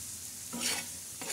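Dried red chillies and their seeds dry-roasting in a pan give a soft, steady stir and sizzle, with a brief louder scrape in the middle and another near the end.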